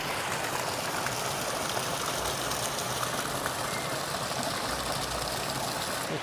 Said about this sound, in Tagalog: Meron pa rin ditong ilog.